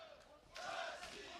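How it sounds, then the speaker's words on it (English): A vocal crowd cheering at an amateur boxing quarterfinal bout at the Dubai Duty Free Tennis Center, distant shouting swelling into a louder roar midway and holding steady. "he's being encouraged by a vocal crowd here at the Dubai Duty Free Tennis Center"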